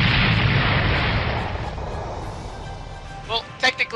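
Gunfire and artillery blasts from the video game Valkyria Chronicles, a dense, loud roar of combat fading slightly, then a few sharp bursts near the end under speech.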